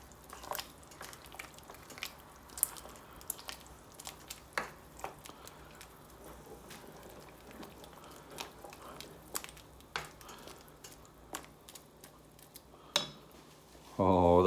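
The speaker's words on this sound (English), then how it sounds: "And give it a stir." Broccoli cheddar soup made with homegrown broccoli is stirred in a pot: scattered light clinks and scrapes of a utensil against the pot, with wet soft squishes, fairly quiet throughout, and a voice briefly begins right at the end.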